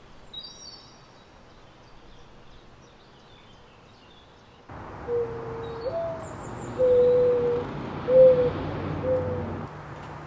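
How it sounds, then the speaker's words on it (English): Soft, mellow cooing notes from a dove repeat slowly over quiet outdoor ambience, moderately near. "Their slow, mellow song gives them the name mourning dove."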